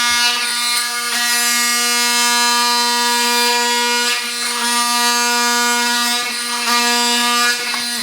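A battery-powered tool scrapes up old flooring while prepping for wood floors, giving a loud, steady high-pitched buzzing whine that runs continuously close by, with brief dips and catches as the blade bites into the material.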